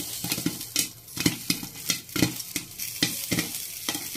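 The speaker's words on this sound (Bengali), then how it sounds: "তো যখন এরকম ভাজবে, ফুটতে থাকবে, তখন আমাকে কি করতে হবে, পাতিলটা একটু নেড়ে চেড়ে দিতে হবে।" Popcorn pops in a pot on a stovetop as the pot is shaken and stirred, giving sharp, irregular pops over a steady frying sizzle, close by and moderately loud.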